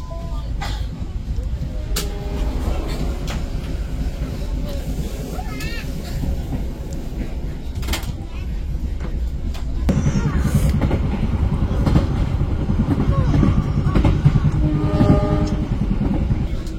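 KA Airlangga passenger train departing a station and running on rails, a steady rumble heard from aboard that swells louder and rougher about two-thirds through, with faint squeaks and clacks over it.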